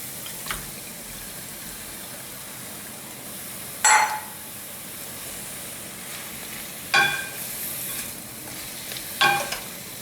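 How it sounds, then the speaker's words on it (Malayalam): Chicken pieces with masala sizzle steadily in a pan for a homestyle coconut-milk chicken curry, a constant low frying hiss broken by three short scraping stirs of a utensil against the pan. "ചിക്കൻ്റെ കളർ മാറുന്നവരെ ഇളക്കി യോജിപ്പിച്ചെടുക്കാം"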